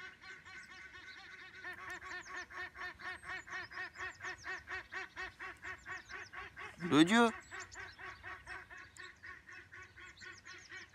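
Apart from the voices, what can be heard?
ducks quacking loudly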